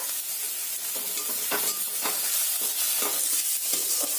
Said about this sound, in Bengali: রসুন বাটা দিয়ে ভালো করে ভেজে নেব